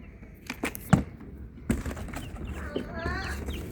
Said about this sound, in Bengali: আমি মুরগিগুলো নিয়ে আসি বের করি